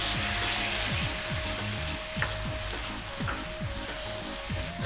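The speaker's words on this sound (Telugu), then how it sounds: "ఇది ఫ్రై చేసేటప్పుడు కేర్ఫుల్గా ఉండండి." Tomato puree frying in butter and oil in a pan, a dense continuous sizzle and crackle, close and loud, with faint stirring knocks and a steady low hum beneath.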